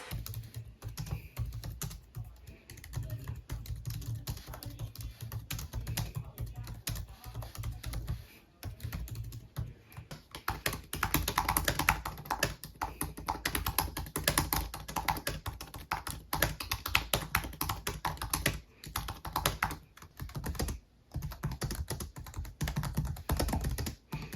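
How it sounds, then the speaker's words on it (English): Rapid, loud clacking of a Lenovo 100e Chromebook Gen 3 keyboard being typed on continuously, with uneven bursts and brief pauses, close to the microphone. "it is loud when you type on it"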